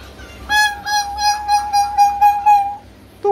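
A pet myna bird imitates a chicken's clucking, a close, loud run of about eight rhythmic pulsed calls, then a short extra call at the end, with no talking over it.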